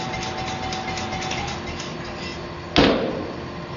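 A power hammer at a knife-forging shop churns with steady, loud mechanical noise, then gives one sharp clunk near the end as it shuts off, the ring fading over the last second.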